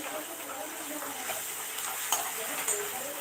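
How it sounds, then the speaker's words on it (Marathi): Ginger-garlic paste frying in a pan with a soft, steady sizzle and occasional light stirring clinks, close and continuous over a few seconds. "आता यामध्ये आपण आलं लसूणची पेस्ट घालणार आहे ती पण छान फ्राय करून घ्यायची आपल्याला"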